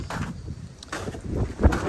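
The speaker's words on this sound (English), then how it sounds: "it's really windy and cold" Strong, cold wind during freezing rain on an icy backyard deck near a koi pond, gusting in uneven bursts and buffeting the microphone with low rumbles.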